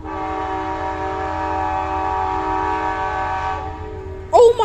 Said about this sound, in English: I've heard that horn many times.